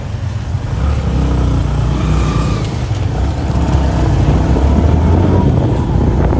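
Motorcycle taxi in Kigali, Rwanda, pulling away with a passenger for a market ride; a steady, close engine drone holds throughout with slight revving as it gets moving.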